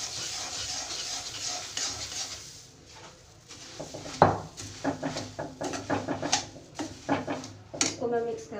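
Puffed rice for laddoos being stirred in a pan with the stove switched off, light scraping, rustling and knocking strokes of a spoon against metal, fairly close, with someone talking over the stirring.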